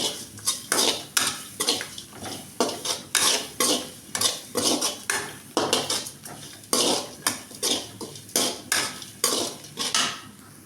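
Cumin, pepper, fenugreek and grated coconut dry-roast in a pan, with a spoon scraping and clanking against the metal in a steady, repeated stirring rhythm and a faint sizzle underneath.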